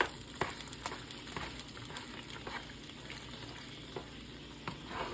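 Tuscan chicken and pasta with spinach sizzle and crackle steadily in a hot pan, a close, even frying hiss broken by light scrapes and taps of stirring, with no talking.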